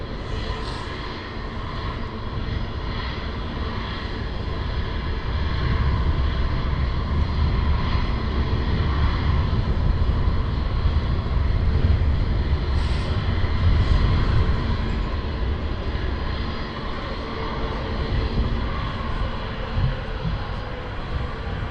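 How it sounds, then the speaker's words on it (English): An easyJet Airbus Neo airliner departs from Southend Airport, a sustained broad jet-engine roar building and holding at moderate distance for over twenty seconds with no talking. "the easyJet Neo heading out"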